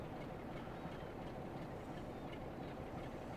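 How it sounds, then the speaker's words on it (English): A Class 150 diesel train in the Train Sim World 2 game on a West Cornwall local route, heard as a steady, broad rumble of engine and running noise, fairly quiet and continuous with no talk. "I hear that class 150 in the shed as well."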